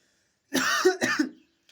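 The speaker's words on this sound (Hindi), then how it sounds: "खांसी आ रही है।" Two rough coughs close to the microphone in quick succession, harsh and throaty, then silence.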